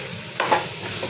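Soybeans stirred into cooking dry masala in a pan, making a brief close sizzle with a quick stir scrape.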